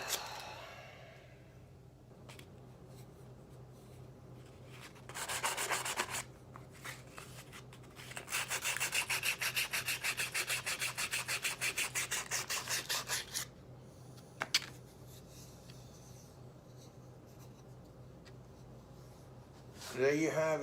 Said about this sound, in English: Much easier to do sanding these when they're on the lathe.